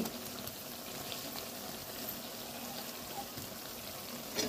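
Ginger garlic paste fries with softened onions in a pan, a steady, dense sizzle and crackle that holds evenly throughout, close by, with no voices.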